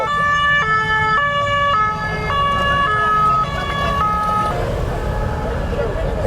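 A wailing emergency siren on a Paris street cycles through stepped two-tone notes, loud and close over steady traffic rumble, then fades out near the end.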